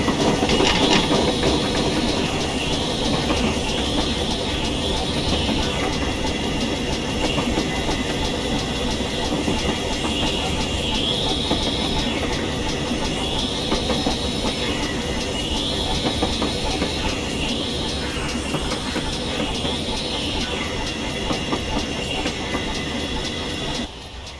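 A GWR Pannier 0-6-0T steam locomotive in Train Simulator Classic slows to a stop with a steady rumble and rolling rail clatter. A recurring whine rises and falls over the rumble, and the sound stays loud and continuous throughout.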